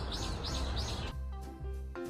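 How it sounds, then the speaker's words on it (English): Small birds chirp in quick repeated bursts, close and bright, near a nest high in trees; the chirps stop after about a second and steady tonal sounds follow. "Birds build nests high in trees where they lay eggs."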